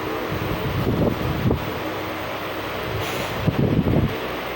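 Riding inside a new passenger train on the Katosan Road to Sabarmati route: a steady low rumble and wind-like hiss fill the carriage, with a few dull thumps and knocks rising out of it, and no voices.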